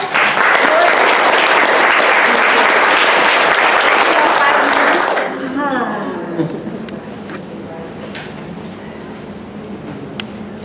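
Loud, dense applause from a crowd for about five seconds, then it fades into quieter room noise with scattered claps and murmurs.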